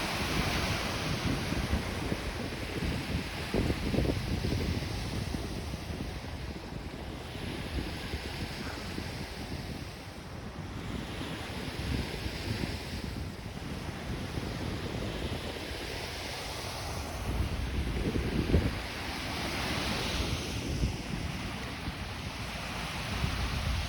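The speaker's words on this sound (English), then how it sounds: "I can see the water waves coming towards my direction" Lake Ontario waves roll in and break on Woodbine Beach in Toronto. Steady surf washes along the shore with several louder surges, mixed with gusty wind buffeting the microphone, and no one speaks.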